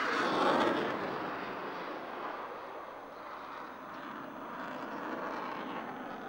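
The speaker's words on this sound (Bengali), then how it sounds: "আপনারা দেখতে পেলেন role of the top aerobatics by MiG-29" A MiG-29 fighter jet flying roll-off-the-top aerobatics over a parade ground, a broad distant jet roar peaking early then easing to a sustained rumble.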